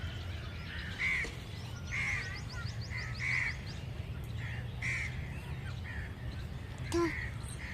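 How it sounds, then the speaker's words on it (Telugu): A crow caws repeatedly in short, regular bursts, fairly close, with a steady low background hum and a few other faint bird sounds. "ఇక్కడ ఉంది కాకి."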